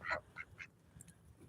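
Ancona ducks give a few close, faint quacks, three short nasal calls in quick succession near the start followed by quieter scattered chirps.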